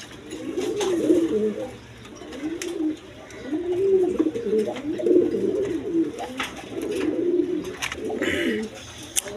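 A pair of pigeons, a Danish cock and a black racer hen, coo repeatedly in low, rolling phrases, the calls coming in steady waves with short pauses between them, close by with faint background noise and no talk.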